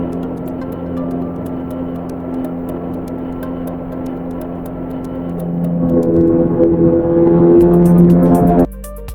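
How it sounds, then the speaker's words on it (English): Ingenuity helicopter on Mars, captured by a NASA rover's microphone: a steady low buzzing hum like a small distant motor, which grows somewhat louder near the end before abruptly dropping away. "in reality, it's the sound of Ingenuity, the Mars helicopter"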